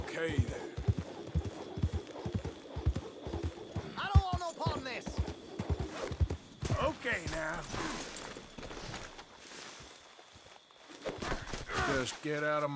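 A horse's hooves clip-clop in Red Dead Redemption 2, a steady run of moderately loud hoofbeats with a brief whinny-like sound, mixed with game dialogue and voices talking over it.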